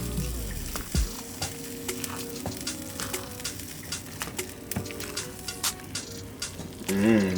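Truffle mushroom risotto stirred in a pan, with soft wet squishing and scraping pulses repeating steadily under a faint sizzle, close and moderately quiet.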